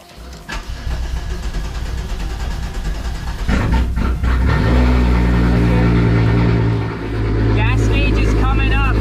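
A Volkswagen Corrado engine cranks, catches and revs briefly, then settles into a loud, steady idle heard from close by, with voices talking faintly over it.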